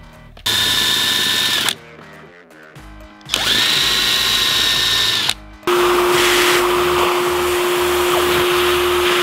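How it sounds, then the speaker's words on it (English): Power drill boring through the sheet-metal roof of a 5th-gen Toyota 4Runner during a roof rack install: three close, loud whining bursts separated by short pauses, the last a steady high-pitched run. "You want to gently let the bit go through the metal."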